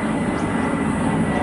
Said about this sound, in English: that's another plane.